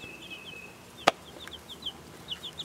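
Small chicks in a movable chicken tractor on open ground, giving soft high chirps and clucks in a scattered rhythm with one sharp nearby knock, fairly faint overall against light background noise.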